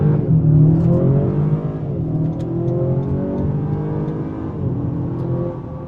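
Acura RDX SH-AWD A-spec crossover engine accelerating hard, a loud sustained rising drone with gear shifts audible as the pitch drops and climbs again.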